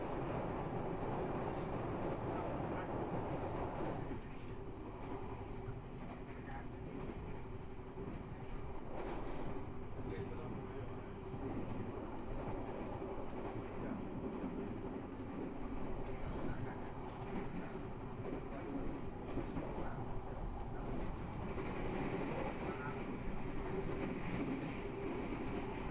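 Blambangan Express train running on a coastal rail line beside the Java Sea, a steady, loud, continuous rolling rumble of wheels on track throughout, with no clear pauses.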